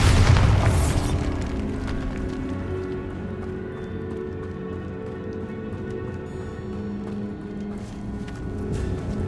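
The Bombarda spell goes off in the Hogwarts Legacy video game as a loud booming blast at the start, then a long rumbling decay fades under the game's ambient sound and music.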